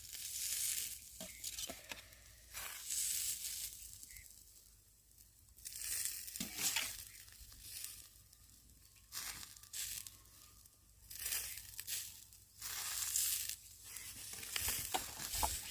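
Bursts of crackling sizzle from chicken pieces frying in leftover gravy in a pan, coming in repeated waves with quieter gaps between, fairly faint and close.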